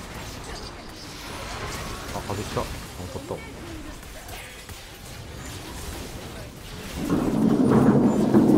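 A thunder strike rumbles through a Wild Rift mobile game match, rising into a loud, sustained low roar near the end, with excited talk from a player over the game sounds.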